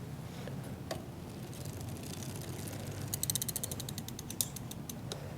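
Ratcheting clicks from tightening a part on an Ebikeling electric bike conversion kit during motor installation, a quiet creaking bed with a fast burst of close clicks in the middle and a few sharper ticks after.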